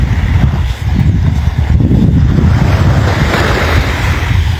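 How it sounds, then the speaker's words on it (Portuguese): Steady wind rushing outdoors in Arambaré, Rio Grande do Sul, Brazil, mixed with a low surf-like roar, continuous and fairly loud with no voices. "Mas é um vento tranquilo por enquanto."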